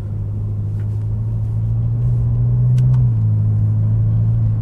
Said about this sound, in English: Yeah, the downshifts are very, very fast.